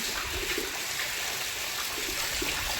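Heavy rain pours onto a flat house rooftop, with water splashing and running off in a steady, loud, dense rush that holds without pause throughout.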